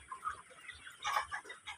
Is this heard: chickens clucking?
yes